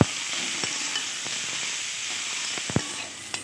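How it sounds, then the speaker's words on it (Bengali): Grated beetroot and spices frying over low gas in a pan, an even hissing sizzle throughout, punctuated by a few sharp spatula taps and scrapes, close and steady with no voices. "উপকরণগুলো একটু ভালোভাবে গ্যাসের স্টিম স্লো করে ভেজে নেব"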